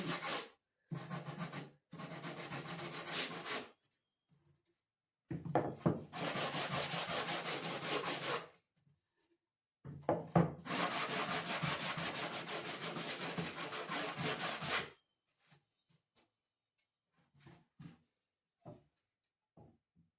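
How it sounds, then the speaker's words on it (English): A sanding block rubs back and forth across wood for beginner toolbox work, giving steady raspy scrubbing in two long bursts and a few shorter ones, close and fairly loud, with brief pauses and light taps between strokes. "Sanding is the worst part of woodworking."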